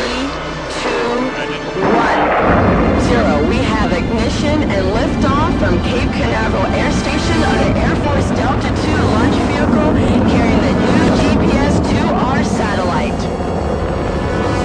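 Delta II rocket roaring off the launch pad at Cape Canaveral with about 200,000 pounds of thrust: a loud, continuous broadband rumble that swells after a quieter opening and holds steady, with a voice talking over it.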